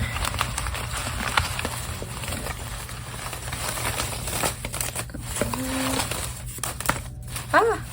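Tarot cards being shuffled by hand, a series of soft, close riffling and crinkling bursts, with light handling noises and a brief sliding sound between them.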